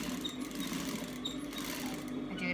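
A sewing machine stitches the seams of a cloth face mask, a steady, fast, continuous mechanical whir running without pause.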